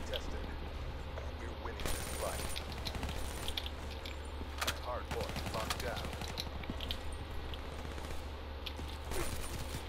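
Rapid gunfire in Call of Duty: Black Ops III, bursts of automatic fire and sharp shots scattered through a noisy battle soundscape, with players talking over it.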